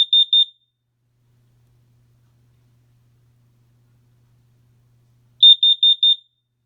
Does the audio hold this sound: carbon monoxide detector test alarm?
yes